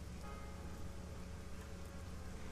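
Steady rain falls without pause in the Shadowrun: Hong Kong video game, a dense hiss of drops that stays even and fairly loud, with no voices.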